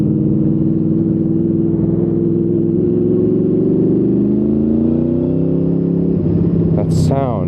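Honda VFR800 motorcycle engine holding a loud steady drone that climbs in pitch, then drops and blips near the end, close to the listener.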